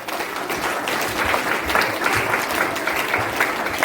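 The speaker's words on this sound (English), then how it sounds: "ask all of you to give a big applause" An audience at a school Teachers Day celebration claps in sustained applause, a dense, even wash of many hands close by with no pause.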